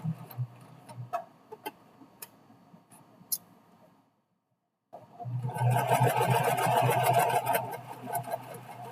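A sewing machine stitches the lining of a boxy zipper pouch, a few light ticks and clicks first, a brief silence, then a steady close mechanical whirr of the needle running.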